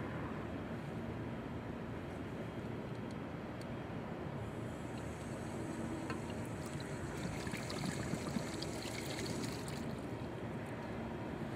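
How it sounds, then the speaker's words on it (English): Water rushing through a Hunter PGV irrigation valve as the main feed is opened to flush out a lodged rock, heard as a steady, loud broadband hiss that continues without a break. "An easy way to do it is to simply turn your main water feed back on for a split second to let this rock pass"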